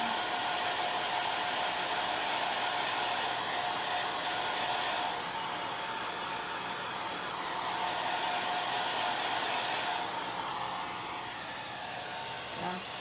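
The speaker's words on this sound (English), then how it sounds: "I'm literally drying my transfer right now." A hair dryer blows steadily and close for over ten seconds while drying a chalk transfer, a continuous whooshing roar with slight shifts in tone as it moves.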